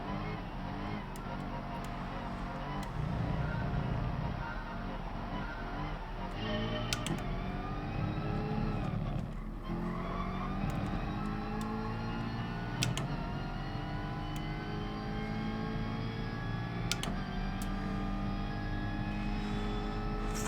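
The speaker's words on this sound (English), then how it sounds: "Ford Mustang power." A Ford Mustang's engine races in the Gran Turismo Sport video game, a steady droning roar that climbs in pitch through the gears, with brief shifts and faint clicks, and someone talking over it.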